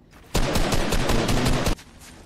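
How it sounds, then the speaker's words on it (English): Rapid automatic gunfire from a Fortnite match, a dense burst of closely spaced shots lasting about a second and a half, loud and close, with quiet game ambience before and after. "What was that shot?"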